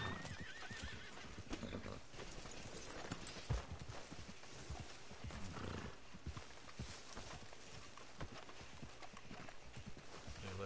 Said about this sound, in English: put this horse over here for me, boss.